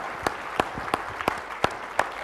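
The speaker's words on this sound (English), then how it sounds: "let's appreciate the panel and give them a round of applause" A handful of sharp, separate claps, about six in steady rhythm, from an audience thanking a panel at the opening plenary discussion of the B4E 2011 conference; sparse and moderately near rather than a full ovation.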